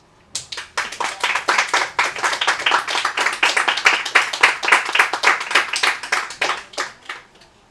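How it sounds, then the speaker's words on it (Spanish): An audience at a philosophy lecture on monsters applauds for several seconds. The clapping is steady and dense, and fairly close and loud. "vamos a darle un aplauso a Gian Di Giuseppe Fernández"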